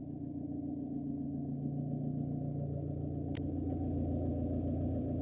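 A Mitsubishi Colt SS engine idles low and steady, a smooth, even rumble held close and constant, with one brief faint click partway through and no voices.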